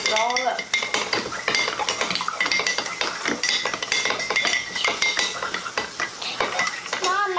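Japanese candy pudding mix being stirred in a small cup, a spoon scraping and clinking against the sides in quick, steady, continuous strokes, close up and fairly loud.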